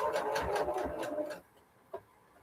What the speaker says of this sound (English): this sewing machine, you can sew so much slower with it than you can with my Juki